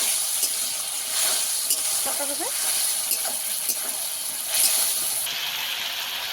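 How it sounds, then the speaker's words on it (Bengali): Spice paste for a Bengali jackfruit and prawn curry sizzles and hisses steadily in a pan after a splash of water, a close, even frying crackle throughout with a brief voice-like sound partway. "সামান্য জল দিয়ে মশলাটাকে ভালো করে কষিয়ে নেব।"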